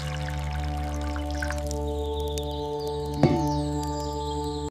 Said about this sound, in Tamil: விறகு அடுப்பில் மண்பானை வைத்து பால் ஊற்ற வேண்டும்